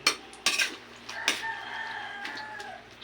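A rooster crows once, drawn out and fairly distant, amid brief clinks of dishes and kitchen clatter nearby.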